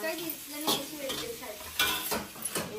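Rice and capsicum are stirred in a pan, with rhythmic scraping of a spoon against the metal over a faint sizzle, close and repeated.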